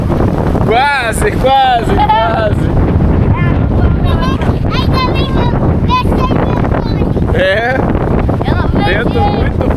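Strong Patagonian wind gusts buffet the microphone in a loud, constant roar, with people speaking over the blustery rush in short bursts.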